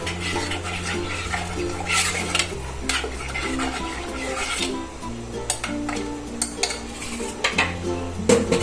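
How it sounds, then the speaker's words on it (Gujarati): A spoon stirs lentil dal in a cooking pot, giving quiet, intermittent scrapes and light metallic clinks against the pot, with no talking. "દાળને આપણે ચલાવી દઈએ."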